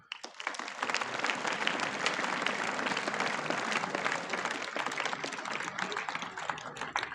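A hall full of school students at a DAV school clapping, a dense, loud, continuous patter of many hands that swells in quickly and holds steady to the end, with no talking.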